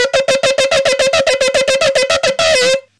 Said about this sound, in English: And now this is the sound of a small shofar.